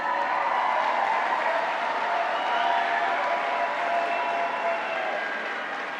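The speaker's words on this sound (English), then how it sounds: "give them a round of applause" Dense, continuous applause from a large crowd at a high school graduation ceremony, sustained and even, fading slightly toward the end.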